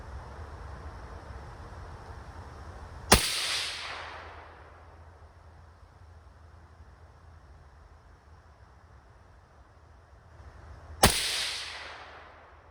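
Two sharp 6mm ARC rifle shots from a CMMG rifle at an outdoor range, several seconds apart, each a loud crack followed by a rolling echo that fades over a quiet background.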